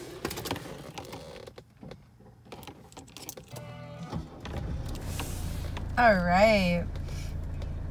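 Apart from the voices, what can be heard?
1982 Mercedes-Benz 300SD turbo diesel starting up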